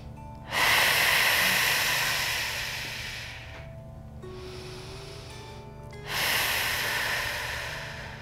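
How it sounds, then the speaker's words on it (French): Slow, deep yoga relaxation breathing: two long, loud airy breaths close to the microphone with a quiet pause between them. "Relaxez bien les hanches et prenez quelques grandes respirations"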